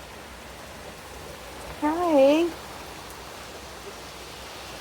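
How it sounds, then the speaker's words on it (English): Steady rain falls throughout a thunderstorm with an even, soft hiss. A short spoken greeting briefly rises above it midway. "Okay, Rain has decided to come back from the south again."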